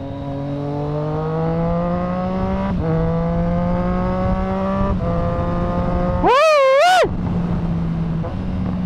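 Triumph Street Triple R motorcycle with a Zard aftermarket exhaust, revving loudly and close: a steady idle drone broken by blips, then a sharp high rev surge that rises and falls before settling back to idle.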